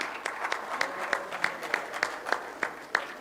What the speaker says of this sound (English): Big round of applause from all of you